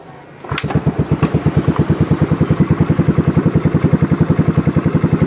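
A Yamaha Mio Smile scooter engine cranks and catches, then settles into a steady, loud, rhythmic putter at idle close by, with no voices.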